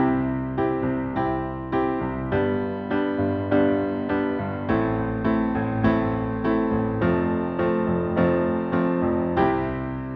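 Solo piano plays a steady repeating chord pattern, evenly pulsed notes with bass changes every couple of seconds, a simple pop progression.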